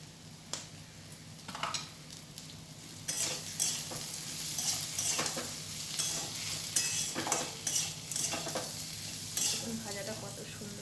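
Grated coconut and kundri frying with asafoetida in a pan, a steady low sizzle broken by frequent scraping and clinking stirs of a spatula against the metal pan, close by and moderately quiet, with no talking.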